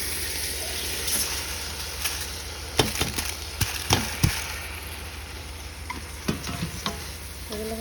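Rice, red lentils, ginger and garlic paste, chili, salt and turmeric fry together in a pan for khichuri, giving a steady low sizzle with scattered spatula scrapes and knocks, clustered around the middle, and no talking.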